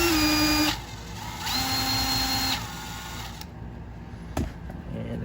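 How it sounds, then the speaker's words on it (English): A power drill spins a freshly lubricated, previously stuck shaft in the block of a 1954 Kaiser Darrin under restoration. A loud whine rises and cuts off twice over steady workshop noise. "take the drill off here"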